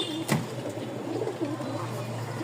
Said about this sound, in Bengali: আজকে অনেক কবুতর আছে